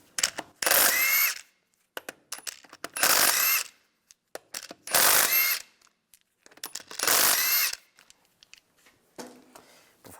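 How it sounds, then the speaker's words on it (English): Power tool with a 17mm socket spinning out wheel bolts on a 1998-2010 Volkswagen Beetle, four loud close bursts of whirring drill noise separated by short pauses, with small clicks and rattles between them. "Then use a 17mm socket. Take the bolts out."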